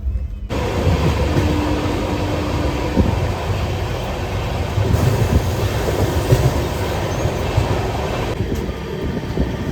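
A passenger train rolls through forest near Bhopal, Madhya Pradesh, with a loud, continuous rumble and rattling clatter of wheels and carriages heard close up throughout.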